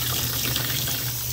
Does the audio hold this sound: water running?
yes